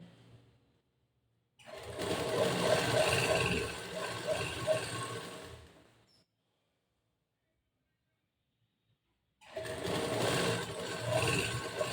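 A sewing machine runs in two sustained whirring bursts as it stitches lining fabric to the main cloth of a blouse, close and steady, with a silent pause between the runs.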